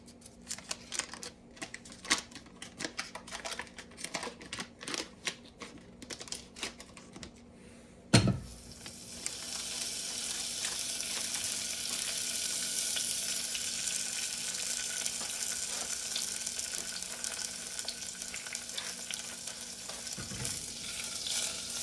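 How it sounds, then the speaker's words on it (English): Butter melts in a pan over low heat on a stove for wing sauce. A soft clatter is followed by a steady, gentle sizzle that runs on without talk. "So we got our butter in there. It's going to come to a melt."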